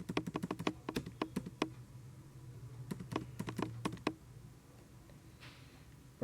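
A computer keyboard clatters as an invoice voucher is entered in Tally Prime accounting software: a fast run of crisp keystrokes, a pause, then another burst, ending in quiet.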